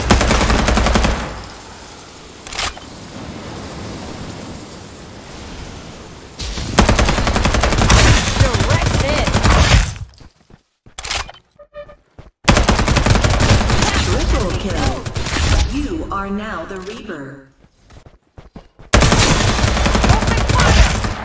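Rapid automatic gunfire in the video game Farlight 84, loud sustained bursts broken by short pauses and mixed with game effects and voices.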